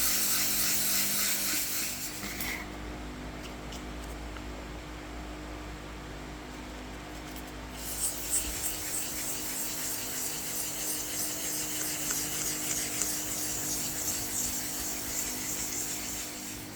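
Fine-grit sandpaper rubbing over a wood and resin box, a steady close hiss of abrasion that briefly changes texture and then resumes with faint uneven scratching strokes.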